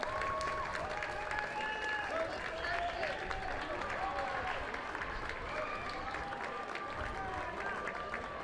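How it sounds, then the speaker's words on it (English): A crowd at a men's Premier League football grand final applauds the champions, Hellenic Athletic Football Club, with steady dense clapping and some distant shouts lasting throughout, heard from a distance. "round of applause for the champions, HELLENIC Athletic Football Club"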